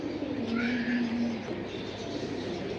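A pigeon gives a single low, drawn-out coo close by, then softer murmuring follows, set against faint background noise at a pigeon seller's loft.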